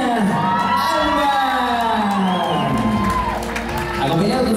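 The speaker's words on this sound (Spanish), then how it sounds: "Fuertes los aplausos." A crowd at a quinceañera cheers, whoops and shouts loudly and steadily, with children's voices and some applause mixed into a dense, continuous roar.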